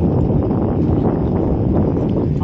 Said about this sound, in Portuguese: o vento hoje tá forte